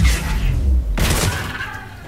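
Rapid gunfire in the Mass Effect 3 online multiplayer game, a loud continuous burst of shots with a heavy low boom that fades out toward the end.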